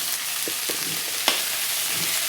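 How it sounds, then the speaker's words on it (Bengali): Onion fries in hot oil as a tempering for fish curry, giving a steady close sizzle with a few brief stirring clinks on top. "পেঁয়াজ দিয়ে বাগারটা বানাচ্ছি"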